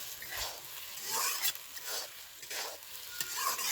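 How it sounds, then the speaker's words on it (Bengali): Pre-fried potatoes being stir-fried in hot oil in a pan: repeated scraping stirs over a continuous soft sizzle, close and fairly quiet, with no talking. "এই অবস্থায় আলুটা দিয়ে দেবো ভালো করে আলুটা এবার কষিয়ে নেব"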